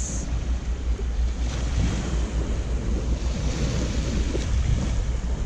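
Surf washes onto Khafji Beach in Saudi Arabia, a continuous broad roar of breaking waves mixed with wind buffeting the microphone, steady and fairly loud throughout with no voices.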